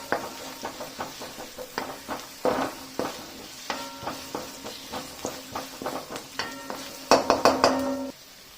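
Carrot strips stir-fry in a pan with a quiet sizzle beneath rhythmic, repeated spatula scrapes and taps on the metal, growing louder and quicker toward the end before stopping.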